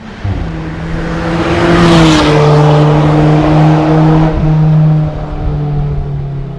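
An Alfa Romeo 4C with a 240-horsepower 1.8 turbo engine sweeps past on a race track, its loud engine note rising and falling in pitch as it closes in, peaks and pulls away.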